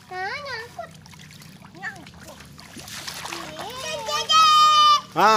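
Water splashes and sloshes as sandals are washed, with children's voices talking and calling out over most of it and a louder burst of splashing near the end.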